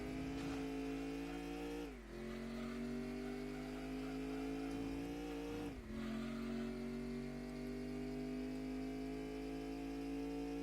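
A Gran Turismo 2 race car drones at high revs during a 100-mile endurance event in Seattle. The steady whine drops briefly twice as it shifts gears, then climbs back, loud and continuous, with no talk.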